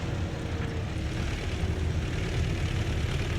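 Steady low engine drone of a tractor driving in Farming Simulator 17, a continuous rumbling hum held at an even level throughout with no talk over it.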